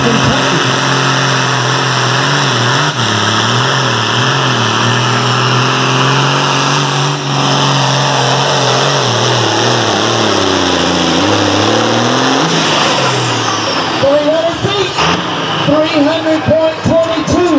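A John Deere pulling tractor with a turbocharged engine roars loudly at a tractor pull, its harmonic pitch rising and falling as it revs hard, with a crowd and a commentator's voice over it.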